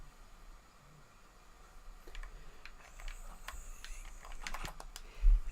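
Light, irregular keystrokes tapping on a computer keyboard, faint and close, with clicks growing slightly busier toward the end over a quiet background hiss.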